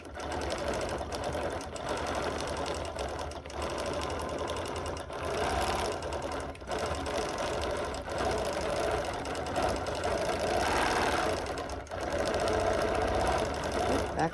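A sewing machine quilts straight lines in steady runs broken by brief stops, its rhythmic mechanical whir fairly close and continuous, with no talking over it.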